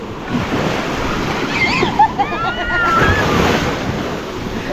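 Ocean waves wash in with a loud, rushing surf under gusty wind buffeting the microphone, with a few faint voices.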